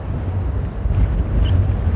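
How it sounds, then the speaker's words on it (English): Wind blows steadily at Amsterdam airport on a freezing day, a constant low rumble buffeting the microphone, with no voices. "Oh, and the wind's picking up for sure."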